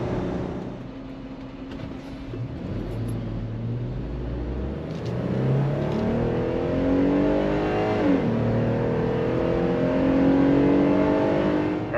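A truck with 5.13 gears accelerates hard in a 0 to 60 speed test, its engine a loud, continuous roar that climbs in pitch through several gear changes, with no one talking.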